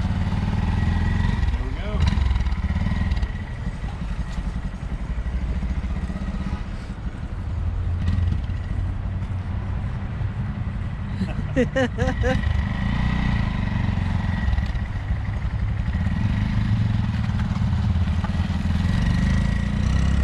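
A small Honda Monkey 4-speed motorcycle with a clutch runs steadily nearby, its engine note dipping and rising through the clip while people talk over it.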